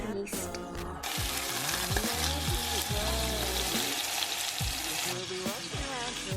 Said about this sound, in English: I'm just stirring that over medium heat and adding some yeast.